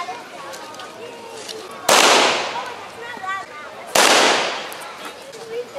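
Two sharp, loud shots from a German P-38 pistol at a military weapons demonstration, spaced about two seconds apart, each followed by a long decaying echo, with faint talking in between.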